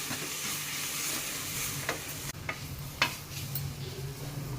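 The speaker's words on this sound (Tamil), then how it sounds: "இதை நல்லா வதக்கிக்கோங்க." Spices and onions sauté in a pan for a bottle gourd curry, a steady low sizzle running throughout with a few sharp stirring scrapes and clinks of a spoon against the pan, no voices.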